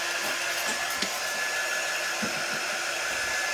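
A handheld dryer blows steadily on a layered Valentine heart craft, a constant close airy whir that holds at even loudness for several seconds.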